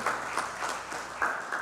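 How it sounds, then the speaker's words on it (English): A church congregation at a Baptist Sunday worship service gives a short round of applause, the clapping swelling in loose pulses and fading, with a faint voice briefly audible. "So give him a round of applause, if you will."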